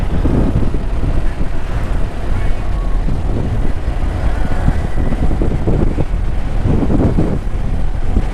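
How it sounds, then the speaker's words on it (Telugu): Strong outdoor wind in Annamayya district near the Annamayya statue on a hot, sunny day, roaring steadily across the microphone with continuous low buffeting gusts throughout. "గాలి అయితే బీభత్సంగా వస్తుందబ్బా"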